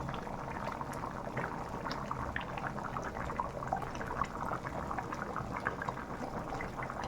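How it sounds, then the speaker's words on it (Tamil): Country chicken curry with added water bubbling in a pot, a steady soft simmer of popping bubbles heard close up and alone, with no talking. "தண்ணி சேர்த்து நல்லா வேக விட்டு எடுத்துக்கணும் அதை"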